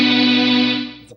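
Guitar run through an Electro-Harmonix Mel 9 Tape Replay Machine pedal rings out as one sustained, bright, steady chord that slowly fades over about a second, with no talking.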